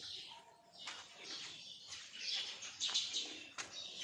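Chickens calling in short chirps and soft coos over a steady outdoor background, with several brief sharper calls scattered through.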